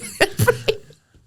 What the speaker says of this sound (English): Oh, we always cough.